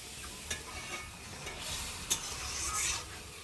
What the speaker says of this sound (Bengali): এবার এর মধ্যে জল দিয়ে দেবো। ব্যাস, তরকারি ফুটতে থাকুক